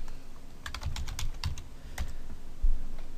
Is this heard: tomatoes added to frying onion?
no